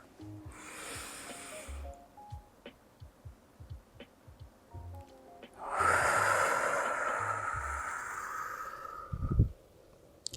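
During a yoga breathing practice, a long, deep breath rushes audibly through the nose and mouth for a few seconds, close and breathy, over soft background music and preceded by quieter faint breaths.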